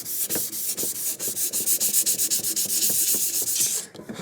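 A sanding block rubs back and forth over a GluBoost lacquer finish, making steady rhythmic raspy strokes, close and fairly loud, with no talk.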